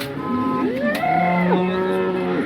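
A cow at the Sangola cattle market in Maharashtra moos in one long, rising and falling call, close and loud over a steady background murmur of the crowded market.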